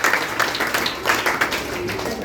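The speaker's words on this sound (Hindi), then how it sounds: "चलिए जोरदार ताली से एक बार फिर से अभिनंदन और बच्चियों का।" Applause from an audience at a memorial anniversary event for a freedom fighter, honoring young girls, with steady clapping across the whole stretch and a faint voice underneath.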